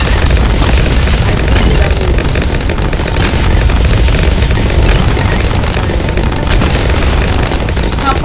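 A bomb exploding in a monkey-versus-balloons WW2 video game, a dense, loud continuous barrage of booms and crackling blasts with no pause throughout.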